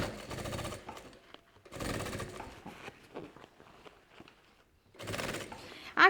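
A sewing machine stitches forward and then in reverse on a backpack, running in three short rattling bursts separated by quiet pauses, clear and close.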